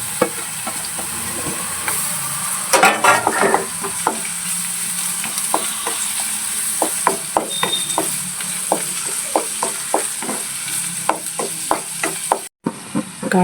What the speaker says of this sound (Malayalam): ചെറിയ ഉള്ളി നന്നായി മൂത്തതിന് ശേഷം നമുക്ക് വെളുത്തുള്ളി ഇട്ട് കൊടുക്കാം.